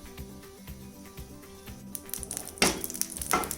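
A tablespoon of ghee sizzles in a hot pan while a non-veg filling is cooked, starting as soft low crackle under music-like tones, then breaking into a brighter, louder hiss with sharp bursts toward the end.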